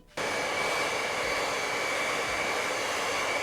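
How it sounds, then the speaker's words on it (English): A hair dryer blows steadily on freshly dyed, lathered purple hair, switching on abruptly and then holding a loud, continuous whooshing roar with a fixed high whine, close and alone. "so I put a hairdryer on it for 5 minutes."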